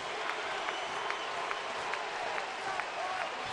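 Baseball crowd at an Indians home game in the bottom of the ninth, applauding a two-run game-tying home run: steady, dense clapping and cheering that holds level throughout, with no voices rising above it.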